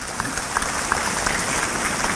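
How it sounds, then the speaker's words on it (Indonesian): Applause for Palangkaraya during a church sermon, brief and fairly soft clapping from the congregation with a few sharper claps standing out over a steady patter. "Tepuk tangan untuk Palangkaraya adalah."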